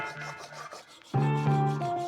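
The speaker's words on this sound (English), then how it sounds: "So we have a majority of our panel scuffed up now with the file" Metal body file scuffing across a car body panel on a gullwing restoration, a soft rubbing rasp that strengthens into steady strokes partway through, with no talking.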